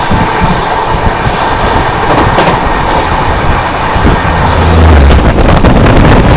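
The Gatimaan Express rushes by close and loud, a dense roar of wheels on rails with a gusty, windy wash and a brief deep low thump near the end, no speech.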